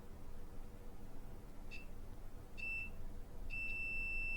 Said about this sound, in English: we should be hearing a beep.